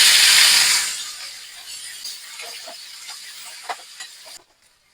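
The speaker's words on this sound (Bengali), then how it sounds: "এই পেঁয়াজ কুচানো গুলো দিয়ে দেবো। পেঁয়াজগুলো এবার দিয়ে দেবো।" Chopped onions dropped into hot oil in a pan for chicken curry, a loud burst of hissing sizzle that settles into a softer crackle with light clinks before cutting off.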